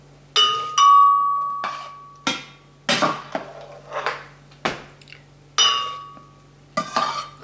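Cooked asparagus being scooped from a metal pot into a blender, with a series of sharp spoon-on-pot clinks and scrapes, several loud knocks and some brief ringing metallic tones, no talking.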